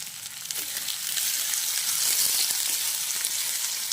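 Chicken meat cooks in a pan with chopped onion and chilli, giving a steady, close sizzling and frying hiss that swells slightly after the first second and holds evenly throughout.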